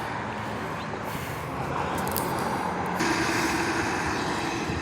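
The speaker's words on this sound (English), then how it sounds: "Bus coming in." Bus engine rumbling nearby as it pulls into a transportation center, with hissing bursts of air brakes over steady traffic noise.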